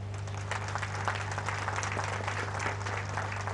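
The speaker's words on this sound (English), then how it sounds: "Let us express our admiration for them with a big round of applause." Audience applause for veterans of Operation Trident from the 1971 war at a naval ceremony, steady crowded clapping heard at a distance over a constant low hum.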